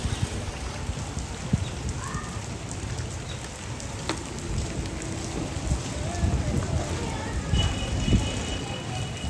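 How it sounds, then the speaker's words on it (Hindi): Heavy rain pours steadily at home during a Sunday iftar, a dense hiss of drops on surfaces that swells louder toward the end, with occasional voices and household sounds mixed underneath. "बारिश फुल तेज हो गई।"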